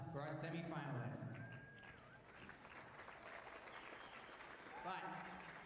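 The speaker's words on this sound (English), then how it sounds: "Can we get a round of applause for our semifinalists?" Audience applause for foil fencing semifinalists at a grand prix event, moderate and steady clapping from a crowd in a large hall, with an announcer's voice over the start and end.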